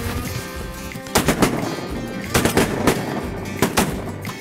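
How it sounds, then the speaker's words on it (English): Shotgun blasts on a women's duck hunt at a beaver dam marsh, several loud close bursts of shots in quick succession, spaced out in groups over a steady outdoor background. "great shooting, that was awesome"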